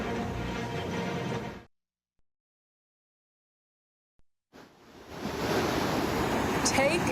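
Water gushing and rushing from a broken 48-inch water main just outside Detroit, a loud broadband roar that cuts off into silence for a few seconds before returning strong and steady.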